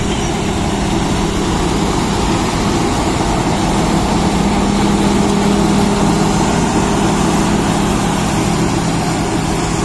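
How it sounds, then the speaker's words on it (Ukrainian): A loud, steady John Deere 9750 STS combine harvester engine drone with a deep low rumble, running continuously throughout without pause, straining heavily under load while threshing. "Тут порано і комбайна сильно стрягне."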